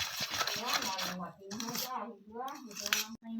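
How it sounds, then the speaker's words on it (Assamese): Rice flour (pithaguri) cake batter whisked briskly in a bowl, a quick scraping, clattering rhythm running steadily under a voice talking throughout. "এনেকৈ আপোনালোকে ফেটি থাকিব, যাতে মিশ্ৰণটো ধুনীয়াকৈ সান খায়।"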